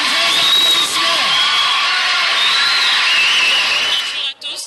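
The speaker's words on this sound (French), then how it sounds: "Est-ce qu'on peut applaudir très fort pour la représentante?" A large audience at a school ceremony applauds and cheers loudly and continuously, with whoops and whistles rising above the dense clapping before it thins out and stops at the very end.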